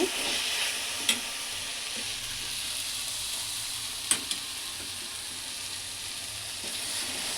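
Gongura leaves fry over medium heat in a pan for chutney, with a loud, continuous close-up sizzle and hiss and a couple of sharp clicks from stirring, with no voices.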